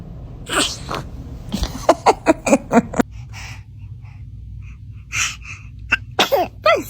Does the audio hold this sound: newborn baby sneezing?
yes